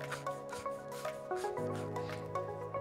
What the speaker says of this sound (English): So I'm gonna take some screen, I'm gonna scuff it up a little bit.